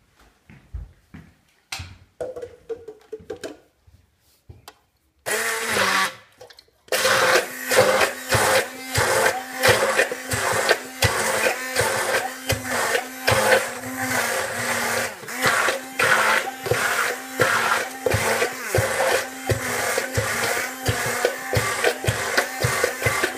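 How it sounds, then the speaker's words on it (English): A stick blender whirs steadily in a thick slurry, close and continuous, pulsing with short rhythmic dips as it is worked through the mix after a few faint knocks and a brief pause at the start. "I find using a stick blender is much more successful, and you have to blend it very well"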